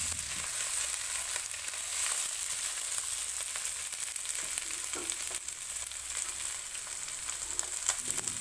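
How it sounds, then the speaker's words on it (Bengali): Chicken pieces for mustard chicken frying in a pan, a continuous close sizzle with occasional stirring scrapes over the steady hiss. "প্রায় 5 থেকে 7 মিনিট এইভাবে ভালো করে নেড়ে নিতে হবে, যেটাকে বলে মাংস কষানো।"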